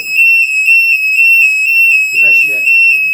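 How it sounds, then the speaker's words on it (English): A fire alarm rings loud and continuous with a shrill piercing electronic tone, pulsing slightly, while people talk faintly underneath. "Is that fire alarm?"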